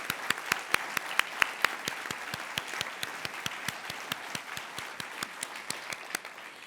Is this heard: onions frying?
no